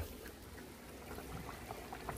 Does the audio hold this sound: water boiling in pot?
yes